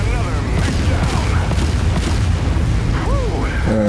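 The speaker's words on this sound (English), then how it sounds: "I barely made it out of that explosion alive" Explosion in the mech combat game Mechwarrior 5: Solaris Showdown, a loud continuous booming rumble with bursts of crackle, mixed with speech and swooping electronic game tones near the end.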